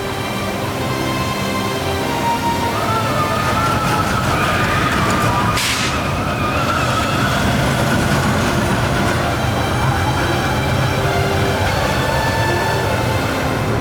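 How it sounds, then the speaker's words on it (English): A Vekoma Junior roller coaster, the Royal Scotsman at Hansa-Park in Germany, rumbles loudly and continuously along its track, with a brief squeal partway through the ride. "the Royal Scotsman is a Vekoma Junior roller coaster"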